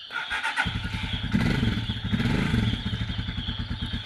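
A Rusi TC 175 motorcycle engine idles with a fast, close putter, then loads up and chugs as the bike pulls off in first gear, steady and loud throughout.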